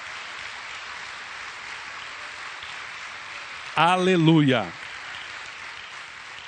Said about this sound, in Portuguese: ofereça ao Senhor Jesus um lindo aplauso